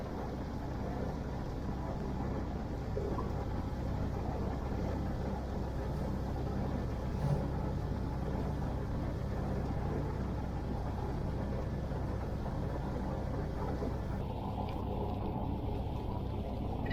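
A sailing yacht motors along under engine power. A steady, unbroken mechanical drone and rumble carries through the whole stretch, loud and near, with no voices.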